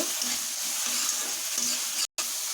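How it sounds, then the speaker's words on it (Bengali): Spices are sautéed and stirred in a pan of oil for Bengali masoor dal, a close, steady sizzling hiss with soft stirring scrapes, broken by a brief dropout near the end. "এটা ভালো করে মশলাটা কষিয়ে নেব"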